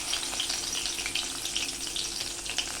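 Garlic frying in hot oil after mustard seeds, a close, loud, crackling sizzle with rapid small pops throughout, no voices.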